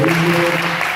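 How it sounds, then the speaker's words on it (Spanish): A church congregation at a women's service claps in steady applause for about a second, with a sustained musical tone held underneath. "denle una ronda de palmas"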